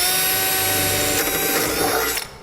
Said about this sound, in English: drill out a hole with a 5/16 inch socket